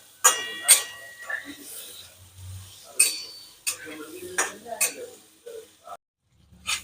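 Paneer sautéed in a pan with hing and coriander-cumin powder for palak paneer, heard as a run of short scraping stirs and clinks of a spoon against the pan, fairly close, with brief gaps between strokes.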